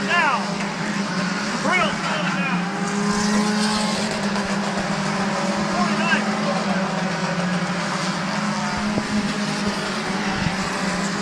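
Race cars circle the track at Midvale Speedway, engines droning and rising as they pass at mid distance, beneath continuous commentary.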